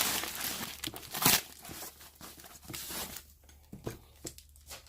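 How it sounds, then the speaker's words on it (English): A package from Banggood holding an Eachine Tyro99 drone kit gets unwrapped close by, with bursts of crinkling and tearing plastic and paper, one sharp rip standing out, then quieter rustles. "we have another package here for unboxing"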